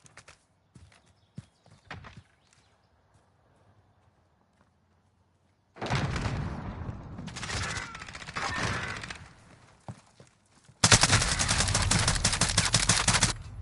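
Gunfire in Call of Duty Modern Warfare 2019: sparse clicks give way to a sustained volley of shots, a pause, then a loud, rapid automatic burst that runs to the end.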